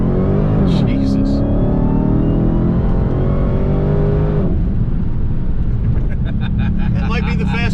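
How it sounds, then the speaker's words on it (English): A fast car accelerates hard on the road, its engine note climbing through gears with loud, close roaring, while people talk inside over the engine. "That might be the fastest car I've ever driven in, Michael."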